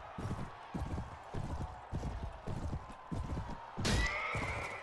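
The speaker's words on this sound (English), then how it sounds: "That's his horse." Galloping hooves thud in a steady rhythm during a joust in Mount & Blade: Warband (Floris Edition), then a horse lets out a sharp, loud whinny near the end, close and clear with no talk.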